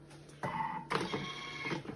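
A Thermomix TM6 whisks three egg yolks at speed 3.5, its motor starting with a rising mechanical whine that settles into a steady hum.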